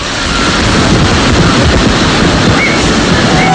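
Strong, roaring wind from Super Typhoon Haiyan (Yolanda) in Iloilo, Philippines, buffets the microphone in a constant, loud broadband rush, with no pauses throughout.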